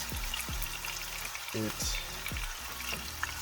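Thick cut bacon frying in a pan, a steady close sizzle and crackle with occasional soft pops and light stirring, no voices over it.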